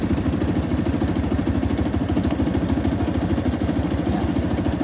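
A Kawasaki ZX motorcycle with an unstable charging current and a burned regulator and battery runs at a steady, loud throttle, a dense continuous throbbing drone that holds constant throughout.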